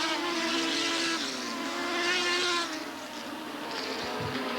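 Mini sprint race cars from a 15-car field race past on a 1990s central Pennsylvania track, a loud, high buzzing engine whine that rises and shifts in pitch as the cars pass, with no talk.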